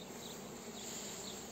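Honey bees buzz at a hive, a dense, steady, even drone that stays close and continuous throughout the short stretch.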